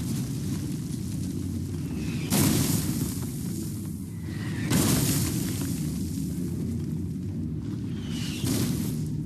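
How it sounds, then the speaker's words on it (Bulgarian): German artillery shelling a company position in a Second World War battle: repeated heavy explosions roughly every two to three seconds, each a broad booming burst over a constant loud rumble of distant fire, with no voices. "германската артилерия започва стрелба по рота Б."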